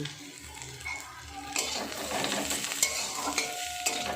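Crushed garlic dropped into a pan of reddened fried onions, sizzling steadily while being stirred, with scraping and occasional clinks of the utensil against the pan throughout; used for a ghugni cooked with goat fat.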